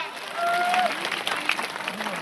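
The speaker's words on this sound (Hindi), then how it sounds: "जोरदार ताली बजाओ एक बार।" A crowd at a public event in a Chhattisgarh village, marking Mahashivratri and the opening of a community hall, breaks into brief, loose applause, with faint voices and crowd noise mixed in.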